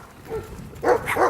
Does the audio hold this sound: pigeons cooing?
no